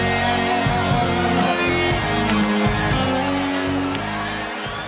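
Low, steady crowd murmur fills PhilSports Arena during the Agriculture vs Ombudsman basketball finals game, a dense indoor rumble of many voices with rhythmic thumps and faint cheers in the background.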